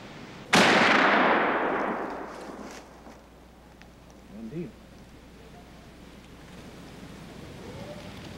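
A single loud Knight muzzleloader rifle shot fired at a whitetail deer outdoors, a sharp blast followed by a long rumbling decay over a couple of seconds, with faint voices afterward.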